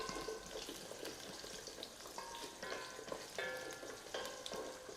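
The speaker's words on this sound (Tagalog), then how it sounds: "Pagsamahin lang natin yung ating patatas at carrots sa mainit na kawali" Potatoes and carrots fry in oil in a hot pan, crackling and spattering steadily with repeated small pops and a bright sizzle throughout, no voices.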